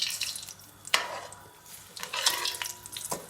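Food cooking in ghee in a pan, with a low sizzle broken by a few sharp scrapes and clatters of stirring, close by and fairly quiet.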